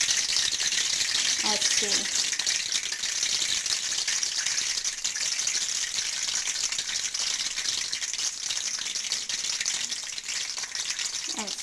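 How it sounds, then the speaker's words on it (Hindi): Potato spring rolls dropped into hot oil, a strong continuous bubbling sizzle that holds steady throughout, with a brief spoken word early on. "ये 1 बाय 1 आराम से ऑयल में डाल देंगे"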